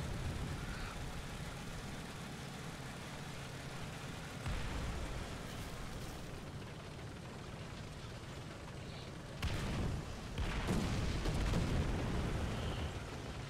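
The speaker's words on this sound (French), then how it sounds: "Je sais pas d'où proviennent ces explosions-là, peut-être une frappe d'artillerie ennemie." Artillery explosions rumble in War Thunder around a Sherman II tank in a Normandy battle, with dull booms and bursts rising over continuous engine noise, the heaviest near the end.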